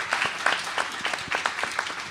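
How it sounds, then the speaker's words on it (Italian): Audience clapping at a live taping of the Tintoria show at the Monk, a short burst of scattered, fairly sparse claps with a light, uneven rhythm. "Applauso."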